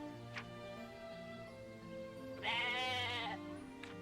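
Near the end, a goat in the video game Atelier Ryza lets out a single bleat of about a second, sounding over quiet game ambience and a faint ticking.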